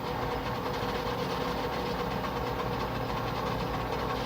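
A metal lathe running at about 200 RPM, set up for turning with carbide inserts, gives a steady, rumbling mechanical hum with a faint rhythmic knock, close and continuous throughout, with no talk.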